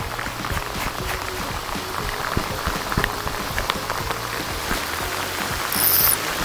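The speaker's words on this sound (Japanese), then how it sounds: "めっちゃいい雨降ってる。" Heavy rain pours down in a steady, dense hiss of drops hitting surfaces, loud and continuous throughout, with no voices.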